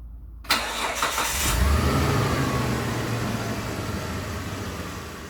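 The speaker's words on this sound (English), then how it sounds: "I'm just going to kick it in the guts and hopefully it fires up and there's no issues" A repaired car engine is cranked and fires up after the quiet opening, catching with a loud burst and then settling into a steady, close idle rumble.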